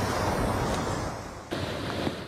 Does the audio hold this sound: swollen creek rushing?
yes